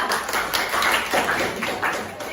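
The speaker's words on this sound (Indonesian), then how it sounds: "Beri aplaus buat kelompok 2" Applause from a classroom of students for a group presenting, a dense patter of clapping that swells and dips steadily for a couple of seconds at moderate loudness.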